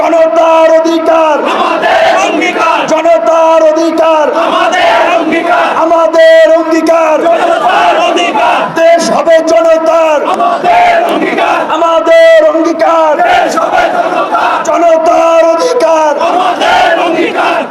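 A large crowd chants a political slogan in loud, steady unison, with repeated rhythmic phrases rising and falling over the whole stretch.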